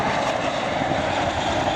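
RAF Chinook twin-rotor helicopter performing at an air display, a loud, continuous broadband roar of engines and rotors that stays steady and close throughout the short stretch.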